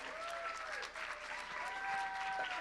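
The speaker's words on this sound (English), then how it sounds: "a big round of applause to our contestants" An audience applauds pageant contestants at a hospitality pageant: steady, dense clapping throughout, with cheering or whooping voices rising over it.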